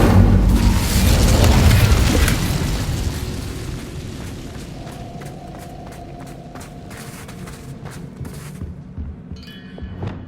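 A fire spell bursts in the Hogwarts Legacy game, a loud roaring blast that swells and then fades over several seconds into quieter scattered crackles and ambient game sounds.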